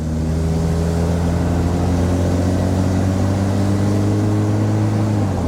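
Pontiac Fiero car engine pulling hard through a long first gear, a steady, loud, droning engine note that rises slowly in pitch before easing off at the end, with no talking.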